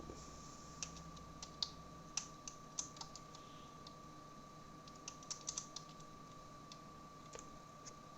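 Quiet, sparse keystrokes on a computer keyboard while typing Tamil text, soft irregular taps with brief pauses over a faint steady hum.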